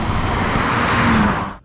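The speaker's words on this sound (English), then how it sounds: "Nice, easy launch control. No additional setup required." A Mercedes GLA45 AMG accelerating hard off a launch-control start, a loud steady broadband engine and road roar sustained for under two seconds before cutting off abruptly.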